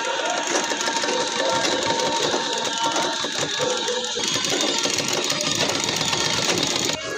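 A sewing machine runs steadily as it stitches along a shirt sleeve, a dense continuous mechanical whir with a rapid needle clatter that holds evenly throughout and stops briefly near the end.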